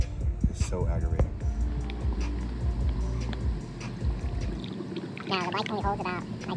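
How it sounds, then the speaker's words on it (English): Engine Ice coolant being poured slowly into a motorcycle radiator, a soft liquid trickle running through most of the clip beneath a voice talking throughout. "Let's go ahead and just pour it in nice and slow."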